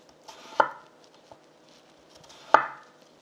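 Two crisp knife chops slicing the side off a vegetable on a cutting board, close by and about two seconds apart, with quiet in between.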